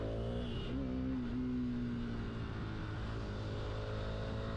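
A motorcycle engine blips up in pitch during a rev-match downshift, then settles into a steady drone under continuous road and wind noise.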